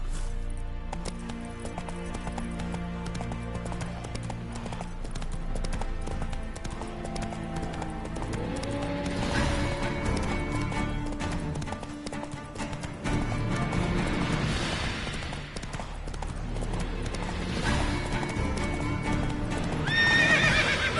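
Roach the horse gallops with steady, fast clip-clop hoofbeats in The Witcher 3, neighing and whinnying loudly over background game music and ambience, with a sharp whinny near the end.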